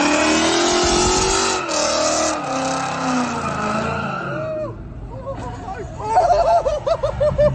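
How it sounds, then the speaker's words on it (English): A Ford Mustang does a burnout with engine revving and squealing tyres, while people laugh and talk over the noise as it rises and wavers toward the end. "Mustang's doing a little bit of a burnout headed towards the egg"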